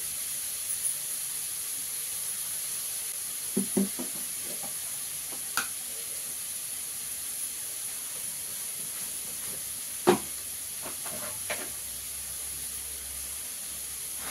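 Onions frying in a pan while preparing an okra yogurt chutney, a constant soft sizzle and hiss with occasional scrapes and knocks of a spoon stirring against the pan.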